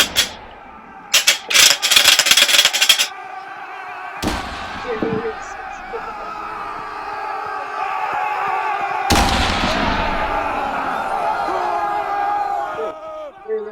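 Loud bursts of rapid gunfire crack out, then sharp single blasts followed by a long roaring rumble and a steady background din, in a WWI battlefield exhibit.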